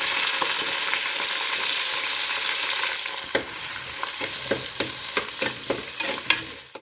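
Small onions, garlic and curry leaves fry in hot oil in a pan with a steady, loud sizzle, while a utensil stirs them in a series of sharp scrapes and taps near the end.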